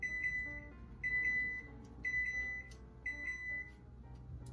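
An oven beeps to signal it has finished preheating: four evenly spaced, steady high-pitched beeps about a second apart, clear and close in a quiet kitchen with no talk.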